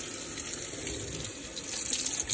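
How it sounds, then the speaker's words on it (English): A kitchen sink faucet runs steadily as a houseplant is rinsed under the stream to clean its leaves and water it. The splashing flow is constant and moderately close, with a slight surge near the end. "So I'm gonna give it a squirt under the sink."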